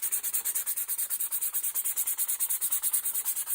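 Rhythmic back-and-forth sanding strokes with a block on a Kofs Zenith shotgun stock during gun-fit adjustments, steady and close, a dry scratchy rasp repeating quickly.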